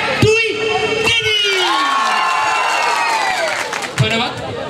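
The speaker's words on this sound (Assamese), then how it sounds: "আপোনালোকে সকলোৱে একেলগে হাত চাপৰি বজাব" An audience at an Assamese comedy stage show cheers and shouts together on cue, a loud crowd roar with whoops swelling then fading, with voices prominent and clapping mixed in.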